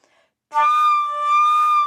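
A sustained, steady flute tone held for well over a second after a brief pause, imitating a train whistle, bright and close.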